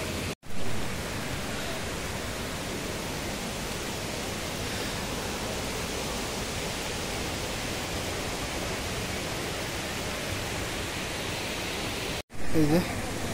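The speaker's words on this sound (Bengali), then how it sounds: "এটা মন্দিরের পেছন দিক দিয়ে আসতে হবে ঝর্ণাটা।" A waterfall behind the Kalyaneshwari temple, with water running over slippery rocks, makes a steady, even rushing roar that fills the scene. It is broken only by two brief dropouts.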